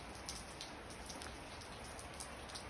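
Steady rain falls at a garage cooperative, a dense, even patter of drops on surfaces with no let-up, fairly close and without voices.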